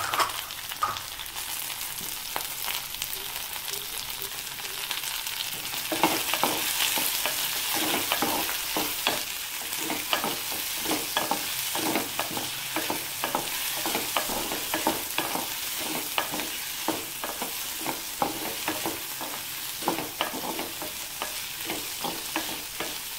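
Prawn theeyal with drumstick and tomato sautéing in a pan, a steady close sizzle broken by frequent scraping stir strokes from the spoon throughout, with no talking.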